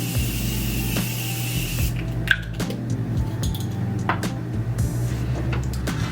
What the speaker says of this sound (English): I'm gonna use my Morphe setting spray